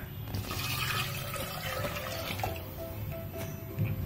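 Water poured from a vessel into a cooking pot while preparing a festival prasadam recipe, a continuous gurgling splash lasting several seconds with a slight surge near the end.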